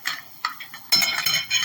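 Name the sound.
stirring ginger paste into goat head curry in a pan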